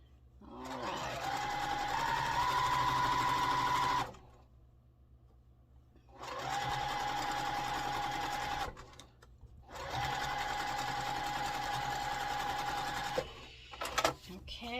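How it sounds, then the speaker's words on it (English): A sewing machine stitches quilt block fabric in three steady runs of rapid whirring, each a few seconds long, separated by short pauses, close and clear. "we're going to sew this other one on"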